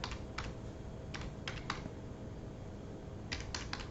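Light, scattered keystrokes on a computer keyboard come in short bursts with pauses between them while a web address is typed, heard close over a faint hiss.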